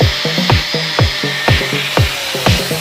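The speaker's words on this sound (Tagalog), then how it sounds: "At puputulin na rin pala natin yung sobrang haba ng bolts dito mga sir" Excess bolt length being cut off on a motorcycle oil cooler install on a Honda TMX 125/155: steady back-and-forth sawing strokes, about two per second, close and fairly loud with no talk.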